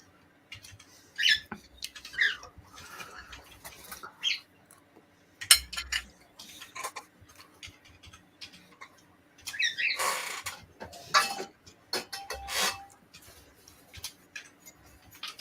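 A green cheek conure calls in short, sharp, high-pitched bursts with scattered chirps and squawks between quieter gaps, close to the mic and with no talking.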